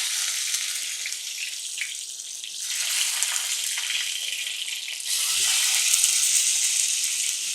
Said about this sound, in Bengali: আর এটা আমি হালকা একটু ভেজে নিব